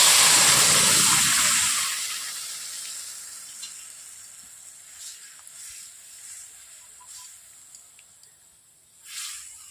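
Lentils tipped into a hot pan with ginger for a papaya mung dal, giving a loud burst of sizzling that gradually settles to a softer, steady fry with occasional crackles.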